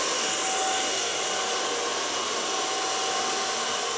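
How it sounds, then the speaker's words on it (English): Hair dryer running steadily on a blue cool setting while short hair is blow-dried, a continuous loud whooshing roar with a faint high whine that holds level throughout, no voices. "Start blower drying from the neckline and building up to the front."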